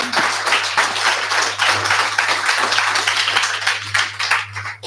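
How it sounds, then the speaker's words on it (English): Sustained applause from an audience at a luxury industry morning show event, many hands clapping in a dense steady wash, close and even throughout, over a low electrical hum. "Please, a big applause for our speakers"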